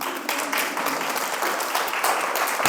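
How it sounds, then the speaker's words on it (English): Steady audience applause fills a theater, a dense wash of many hands clapping at constant loudness for a few seconds. "I really don't know why y'all clapping"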